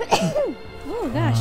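A single sharp sneeze bursts out close to the mic near the start, followed by a person speaking briefly.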